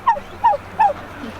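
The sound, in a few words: turkeys gobbling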